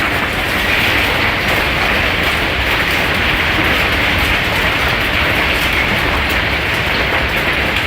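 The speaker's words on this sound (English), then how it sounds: "This hailstorm in Texas was so intense that the hail started coming inside the home." Intense Texas hailstorm pelting a house, a loud, dense, unbroken roar of hail striking surfaces close by, with no speech.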